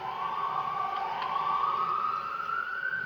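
A wailing siren holds steady and slowly rises in pitch, loud and continuous throughout, with no voices.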